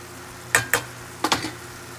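Ground beef cooks down in a pan with soft, steady sizzling, broken by four sharp scraping stirs in two quick pairs, close by and with no talking.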